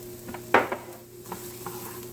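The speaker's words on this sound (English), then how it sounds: "And I'm just going to saute these for just a few moments." Onions sauteing in bacon grease in a pan, a faint sizzle with a sharp utensil clink and a few soft stirring scrapes.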